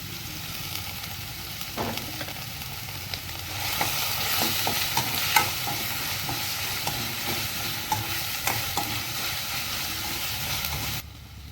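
Onion, ginger and garlic sizzle in hot oil for prawn masala, a steady close hiss of frying broken by the scrape and clatter of stirring.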